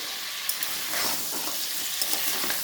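Crabs fry in hot oil in a wok, a loud dense hiss and crackle filling the whole moment without pause, close up and with no speech.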